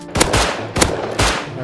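Gunfire in the survival game Rust: three sharp, loud bursts about half a second apart, each with a quick ringing tail, close to the listener and with no talk over them.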